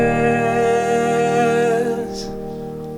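Piano chords from the verse of a song ring out steadily and close, then gradually fade as the notes decay.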